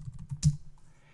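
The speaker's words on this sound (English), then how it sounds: "So let's start off by typing in just some different text." Typing on a computer keyboard: a few soft, close key clicks, with one sharper louder press in the middle and quiet between.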